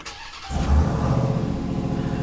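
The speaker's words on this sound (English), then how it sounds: "We're going to go ahead and start up the truck." A truck engine cranks briefly and fires, then runs at a steady, fairly loud idle, recorded from inside the cab.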